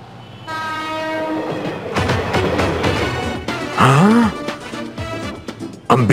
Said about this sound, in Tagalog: Hindi to karwahe, MRT ang tawag dito, Tamahome.